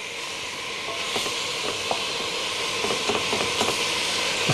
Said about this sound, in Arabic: يتقلى لناخذ طعمة القلي